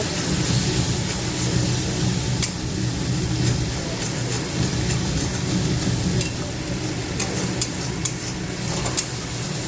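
Spices frying in a pan on the stove before potatoes are added, a steady loud sizzle and crackle with occasional stirring scrapes running throughout.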